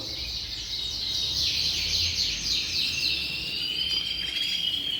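Yorkshire canaries in an aviary, a continuous high twittering chorus of chirps and trills from several birds, moderately close over a low background hum.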